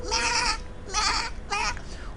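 A man imitates a goat with his voice, giving three quavering, nasal bleats in quick succession, close and fairly loud, with short pauses between them.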